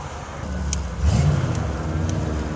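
A 1989 Ford Mustang pulls away in first gear, a low steady engine rumble from inside the car that swells briefly as it accelerates.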